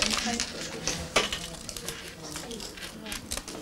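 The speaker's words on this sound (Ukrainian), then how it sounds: "беремо ножиці, ножицями вирізаємо розмітку" Scissors snip through a folded piece of paper along a traced template outline, giving a string of short, crisp cuts close by over a low background with faint voices.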